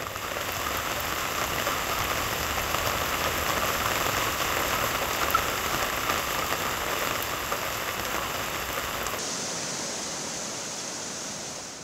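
Heavy monsoon downpour in the Bhimashankar area, a dense steady roar of rain falling on surfaces with no letup, loud and close throughout, the hiss thinning slightly near the end.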